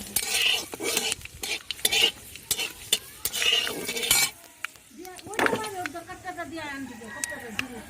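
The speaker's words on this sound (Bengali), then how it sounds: "এবার পাঁচ ফোড়নও দিয়ে দিলাম" Panch phoron spices fry in hot oil during a rooftop picnic cook-up, with bursts of crackling sizzle, metal spoon stirring and clinking pots close by while people talk.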